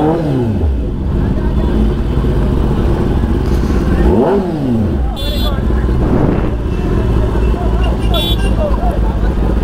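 A BMW S1000RR sport motorcycle engine revs up and down repeatedly nearby, rising and falling in pitch amid passing traffic noise, with brief voices underneath.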